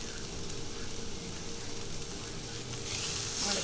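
Hot cherry peppers sizzle briskly in a pan, a close, continuous crackling hiss that grows louder and brighter in the final second.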